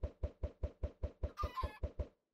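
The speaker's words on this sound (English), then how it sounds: "See if we get any chickens." Chickens from hatched eggs in Minecraft 1.16.1 give a steady run of about ten evenly spaced clucks, with a brief cluster of higher game sounds near the middle.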